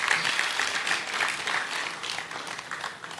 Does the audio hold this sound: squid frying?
no